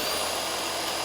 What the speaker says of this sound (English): I'm gonna get the Sawzall and just cut that one off.